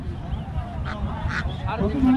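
Ducks quack in short bursts at a busy village duck market in Bangladesh, close by and intermittent, mixed in with people bargaining over prices.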